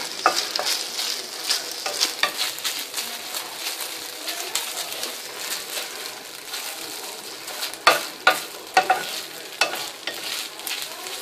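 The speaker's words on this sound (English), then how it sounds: "Kind of like sauteing the noodles a little bit," Shirataki noodles sauté in a hot pan, sizzling steadily up close while a utensil stirs and scrapes them, with a few louder knocks near the end.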